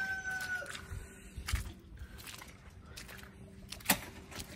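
Backyard chickens being shut in on a cold, rainy day cluck softly and intermittently amid a noisy outdoor background, fairly faint, with a sharp clatter near the end.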